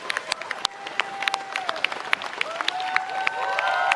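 A crowd at a live game showcase claps and whoops, with scattered sharp hand claps and whistles over a busy, echoing hall and faint voices throughout.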